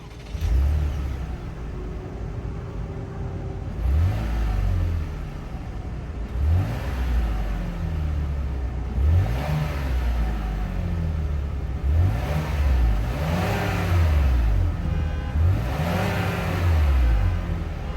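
A 2023 Chevy Blazer RS with its 3.6-liter V6 starts up and idles, then gets blipped through a series of about six rising and falling revs in a steady rhythm, close and clear with no talk.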